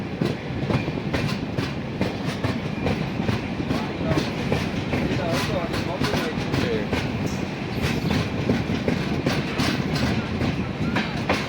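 A Madgaon–Hapa express train rolls steadily along the rails at Khed station in Maharashtra, with a continuous rumble and rhythmic clatter of wheels, loud and close throughout.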